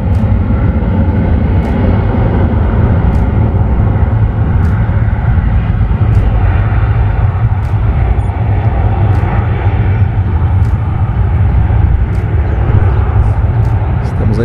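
A large airplane takes off at Sorocaba airport with loud, sustained jet engine roar that holds steady and close throughout, masking other sounds.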